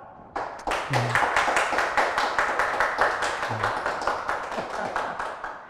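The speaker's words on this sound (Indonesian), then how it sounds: "Itu tepuk tangan dari bangsa Indonesia" Studio audience on a talk show claps in a small, sharp burst of individual hand claps that thins out gradually, with a voice briefly heard twice underneath.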